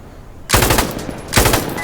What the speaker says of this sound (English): I think a 3 to 6 round burst with the 249 from the standing position is better.